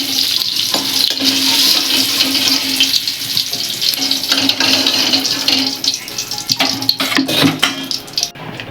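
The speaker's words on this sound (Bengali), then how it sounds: "এবার ওই তেলেই আমি আলুগুলো ভেজে নেব।" Potatoes frying in hot oil give a loud, steady sizzle throughout, with occasional scrapes and clinks from stirring near the end.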